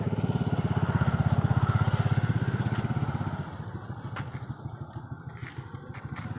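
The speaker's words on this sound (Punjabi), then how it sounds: "ਬਾਈਕ ਆ ਗਈ" A motorcycle engine throbs loudly and close by with a steady pulsing chug, then drops to a softer, lower rumble as it settles, with faint clicks and clatter around it.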